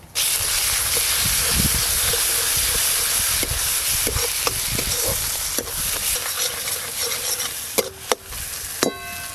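Mustard-poppy paste with Kashmiri and dried red chili paste and turmeric sautés in a hot pan for a fish curry, a loud continuous hissing sizzle marked by repeated scraping stirs and sharp spatula knocks.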